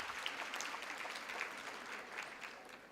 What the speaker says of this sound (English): Can we applaud her for that?